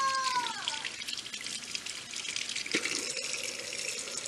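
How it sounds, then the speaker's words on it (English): Running tap water splashes steadily as a makeup brush is swirled and rinsed beneath the faucet, a close, continuous hiss with small shifts in the flow. "Then you put it under the water as you swirl it, and that'll help clean the soap off of the bristles"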